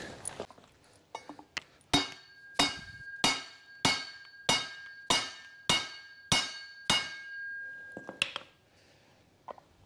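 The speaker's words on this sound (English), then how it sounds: "With the copper hammer, I'll try and hit the shaft just up here." A copper hammer strikes a Holden Commodore driveshaft about nine times in a steady rhythm, each blow a sharp ringing clang that decays quickly, with a few lighter taps before and after.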